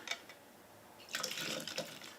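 Liquid being poured from a bottle of Bel Air into a glass, a faint splashing trickle that swells after a brief pause, quiet and alone.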